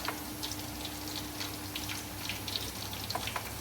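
Onions frying in oil in a pan, a steady soft sizzle with scattered crackles and pops throughout, close and fairly quiet, heard alone while beef intestine is being prepared.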